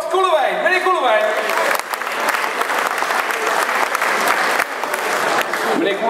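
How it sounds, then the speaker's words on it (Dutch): An audience at a municipal New Year reception in Kampen breaks into sustained applause, a dense wash of clapping that holds steady for several seconds, with a voice audible over the start. "En dat mag ik best even voor klappen."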